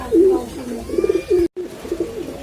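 A pigeon coos close by in a short run of soft, throaty rolling calls, with a brief silent gap midway and a few more coos after.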